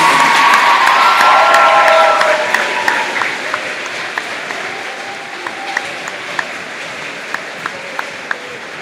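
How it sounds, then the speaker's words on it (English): Applause and cheering from a crowd at a school academic awards ceremony, dense and loud at first with children shouting, then thinning out into scattered claps over the closing seconds. "Can we get a big round of applause?"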